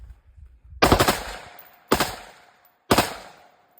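Rapid rifle fire with a Rare Breed forced reset trigger at a 25-yard range: three short, loud bursts of quick shots separated by brief pauses, close up.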